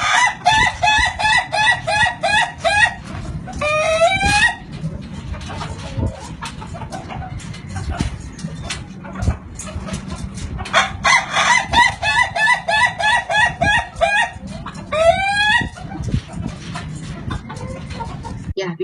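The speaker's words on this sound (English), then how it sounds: "the type of the crowing or the song of the chicken" A Gaga chicken from Sulawesi, Indonesia, crowing in long, stuttering, laugh-like bursts, repeated several times up close, with clucking and other fowl noises filling the gaps between crows.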